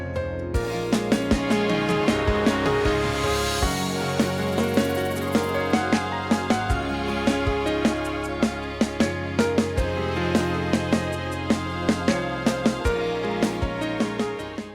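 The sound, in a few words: basic organ sound from VST plugin in gospel song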